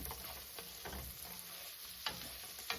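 Onions caramelizing in a hot pan for beef stroganoff, a faint, steady low sizzle with occasional soft stirring scrapes and taps, no speech.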